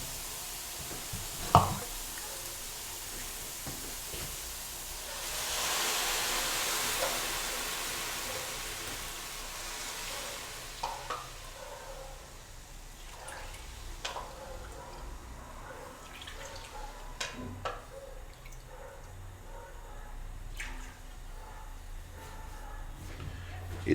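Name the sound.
vegetable broth being poured into a pot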